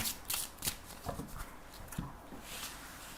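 Tarot cards are shuffled close by in quick, soft riffling and flicking bursts, fairly quiet, with no talk over them.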